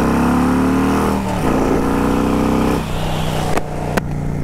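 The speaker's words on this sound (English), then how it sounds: "this 2005, now with a full tank of gas, Harley Davidson Road King, has the very powerful twin cam 88 cubic inch fuel injected" A 2005 Harley-Davidson Road King with a fuel-injected Twin Cam 88 engine rumbles steadily while riding, loud and close, its pitch dipping and rising with gear changes over a constant wind and road noise.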